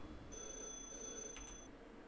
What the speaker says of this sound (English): I received a mysterious phone call